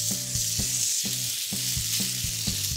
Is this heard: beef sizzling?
yes